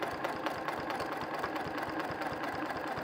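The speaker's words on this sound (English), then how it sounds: "I'm just going to sew right along the edge." A sewing machine runs steadily as it stitches along the edge of a fabric postcard, its fast, even needle clatter sounding close and continuous, with no talking.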